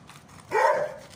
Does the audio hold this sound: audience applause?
no